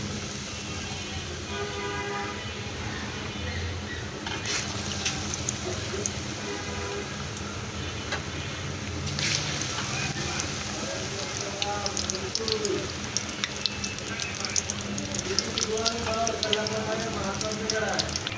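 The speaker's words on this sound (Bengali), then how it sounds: "এখন আমি আলুর চপগুলো দিয়ে দেবো।" Potato chops (aloo chop) drop into hot oil and fry with a steady, dense crackling sizzle that runs throughout, close and even, with occasional faint voice in the background.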